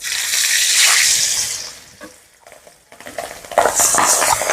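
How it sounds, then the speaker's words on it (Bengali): Boal fish dropped into hot oil in a pan sends up a loud, bright sizzle that dips briefly, then flares back into vigorous frying, with no talking. "গরম হয়ে গেছে এখন আমি মাছটা দিয়ে নিলাম"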